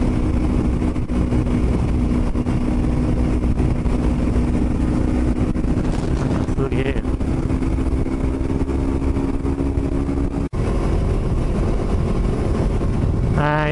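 Yamaha YZF-R25 motorcycle riding along a local road, its engine droning steadily and loudly up close with constant wind rush, a short dropout near the end, no talking.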